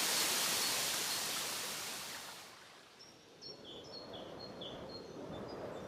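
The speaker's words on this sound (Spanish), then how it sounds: "Aguas frías y cristalinas que se precipitan desde pequeñas cascadas y que atraviesan mansamente la localidad." Cold, clear water of the Łukowica stream in a small Polish mountain village, tumbling over small waterfalls as a broad steady rush that eases off partway through, with small birds chirping nearby.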